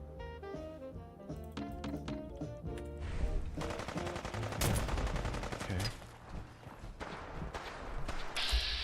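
Gunfire in the Fallout 4 video game, a dense run of loud shots and bursts that build into sustained firing, with sharp cracks between the heavier volleys and no talk over them.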